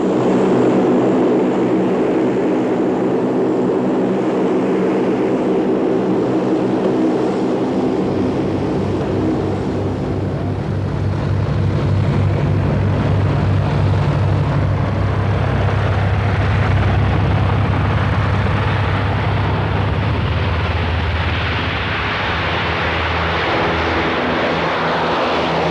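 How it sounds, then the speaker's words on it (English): Loud, steady propeller drone fills the cabin of a noisy Lockheed C-130 Hercules military transport in flight, a deep engine rumble with a rising low hum partway through and no break in the noise. "The Hercules is also a very noisy aircraft."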